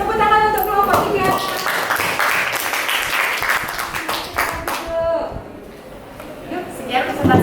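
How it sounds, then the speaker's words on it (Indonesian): A class claps for a presenting student group in a classroom, a burst of applause that thins into scattered claps, with voices talking over it. "Tepuk tangan untuk kelompok 3."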